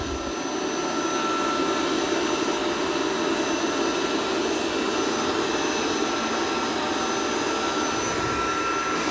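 Dreame D10 Plus robot vacuum and mop running steadily while cleaning a room, a continuous broadband whir with a constant motor hum, close and fairly loud, no speech.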